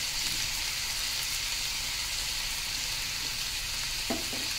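Chopped tomatoes and cashews fry in a hot pan for a makhni gravy, a steady close hiss and sizzle with a faint utensil tap near the end.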